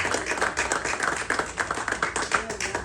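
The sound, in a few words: congregation applauding in church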